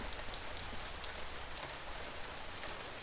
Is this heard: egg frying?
no